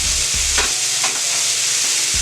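Steaks sear on a hibachi-style griddle at home, a steady close hiss of sizzling fat with a few soft scraping and stirring knocks over about two seconds, no voices.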